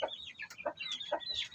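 Chickens and a young stag (cockerel) cluck and chatter in short, bright bursts, a few birds close by in a quiet farmyard setting.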